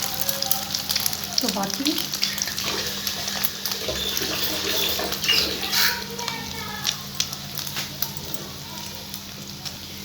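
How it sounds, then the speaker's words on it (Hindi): Potato finger snacks fry steadily in hot oil with a continuous bubbling sizzle and crackle throughout, while a voice speaks briefly over it. "बस हमें तब तक इन्हें फ्राई करना है जब तक इनका कलर गोल्डन ना आ जाएगी।"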